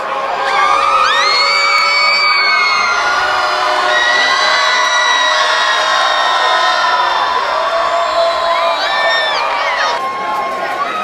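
Crowd at a Mustangs high school football game cheers and whoops continuously, loud and dense, with shouted voices rising and falling across the stands and no break in the noise.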